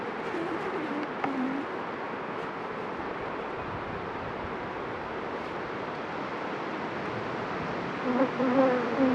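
Honeybees buzz in a dense, steady swarm close by as a beehive is split into a nuc box, the hum continuous and rising slightly louder near the end.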